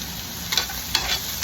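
Sausages and chicken leg quarters fry in oil in a pan with a steady, close broadband sizzle, broken by two brief louder crackles as pieces are shifted around; no one speaks.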